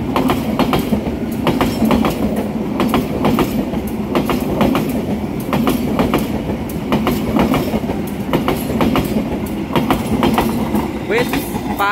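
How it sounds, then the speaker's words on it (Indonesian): The Argo Parahyangan passenger train rolls steadily past at close range near Purwakarta, Indonesia, wheels clacking in a regular rhythm over the rails, with continuous rumble throughout. "kereta api yang akan melintas di sini, kereta api Argo Parahyangan atau kereta api Ciremai ya"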